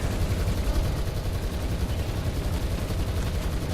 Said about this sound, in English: We see that T-54 firing